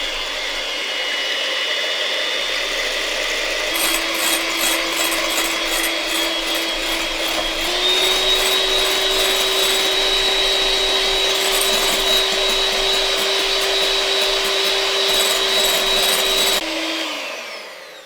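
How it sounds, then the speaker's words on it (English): An electric hand mixer whisks egg whites for a pavlova roulade meringue, a loud steady motor whine that holds for many seconds, rises slightly in pitch partway through, then cuts off near the end. "I'm going to put my egg whites. So I'm going to use a hand mixer, like so"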